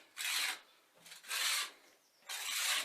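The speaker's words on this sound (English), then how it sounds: "scraping it off the floor" A trowel scrapes old oil off a floor by a 90-year-old Lister engine, three rough rasping strokes in a row with short pauses between, close and clear.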